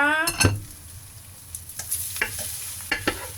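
Mama instant noodles are stir-fried with mussels, holy basil and cheese powder in a hot pan: soft sizzling under a series of distinct scraping stirring strokes, close and moderately quiet.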